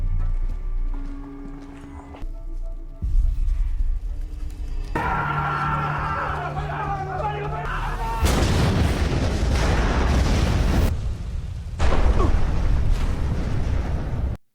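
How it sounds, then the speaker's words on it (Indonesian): A loud grenade explosion bursts out after quieter sounds, a heavy rushing roar that briefly drops away and then surges again. "Setelah melihat ledakan besar di tempat itu"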